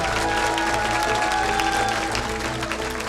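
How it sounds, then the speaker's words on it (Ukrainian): Studio audience applauding after a magic trick performance on a Ukrainian talent show, steady dense clapping mixed with a faint musical tone throughout, moderately loud and continuous. "Але на оплески у нас сил стане, так?"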